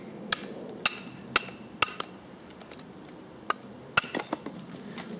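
Wood being split with the Parry Hunter produces a series of sharp, dry cracks and knocks at irregular intervals, with a cluster of quicker clicks near the end, close and fairly crisp.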